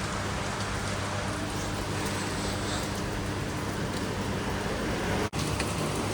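Heavy rain pours steadily as a dense, even hiss with no break in intensity, heard on its own without any talk.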